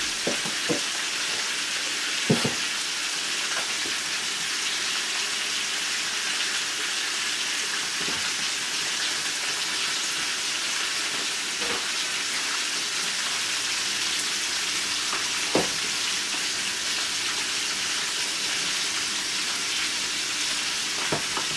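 Garlic sizzles steadily in a hot pan for a pork chop dish, a continuous close frying hiss with a few sharp pops and light stirring clicks, no talking.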